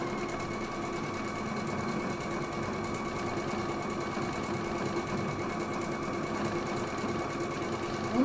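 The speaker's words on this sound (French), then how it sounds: "Et ma machine, elle se balade d'un côté comme de l'autre" A Husqvarna Viking Epic 2 embroidery machine stitches with a steady, fast, even mechanical whirr and hum, close and continuous for the whole stretch with no talking.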